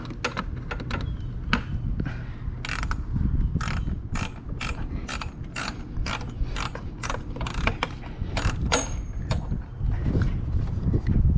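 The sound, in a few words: socket wrench ratchet loosening bolt, BMW X1 JB4 install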